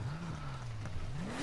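A 1996 Mazda MX-5 fitted with a 2.8 flat-six engine pulls hard in the rainy racing game Need for Speed Heat. The steady engine drone dips, then climbs in pitch as it accelerates, with no voices over it.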